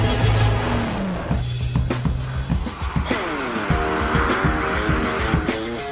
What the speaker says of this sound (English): Bentley's Power on Ice instructors and rally drivers first demonstrate how to do those lurid sideways power slides